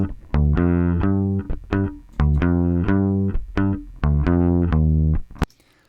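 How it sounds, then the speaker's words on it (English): A gritty, overdriven bass through a tube amp plugin wired directly into the console plays a short phrase of separate notes, dry and direct with no room sound, each note thick and sustained before cutting off. "the sound of the tube amp wired directly into the console"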